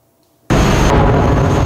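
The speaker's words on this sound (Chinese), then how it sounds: "就听到远方传来炮声隆隆" Loud, close blast of artillery-like explosion noise erupting abruptly after half a second of near silence and sustaining as a dense, roaring rumble, near a front-line battlefield at Bakhmut, Ukraine.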